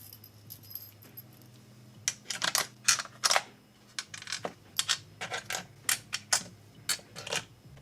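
Screws being worked loose with a Torx T10 screwdriver during an Xbox One X teardown: a quick irregular series of sharp metallic clicks and ratcheting ticks, close and fairly loud, with no talking.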